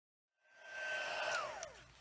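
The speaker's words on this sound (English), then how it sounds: "And I've got my heat tool here, so pardon the noise for just a minute." Embossing heat tool blowing hot air for card making, a rising whoosh that starts after a brief silence and holds steady with a faint whine, fairly quiet and alone.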